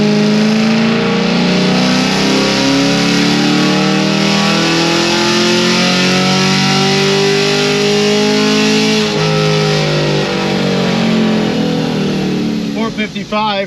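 A stage 3 Corvette C6 Z06 engine revs hard on a dyno, a loud, sustained roaring wail climbing steadily in pitch for over ten seconds before easing off near the end, close and dominant.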